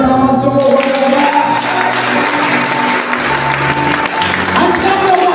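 A church congregation at a prayer session claps and cheers continuously, a broad wash of applause and voices with some singing or shouting mixed in, steady and fairly loud throughout.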